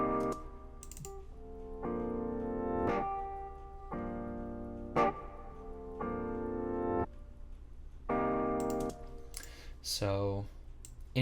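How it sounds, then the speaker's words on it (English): Reversed piano and guitar sounds swell in a hip-hop beat production, with several harmonic bursts that rise and cut off abruptly, mixed with faint clicking like keyboard typing, moderately quiet throughout. "So I added a couple of reverses to my pianos and guitars"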